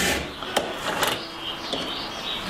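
Rasping strokes of a file on a chainsaw chain, steady and close, with a few sharper scrapes and no voices.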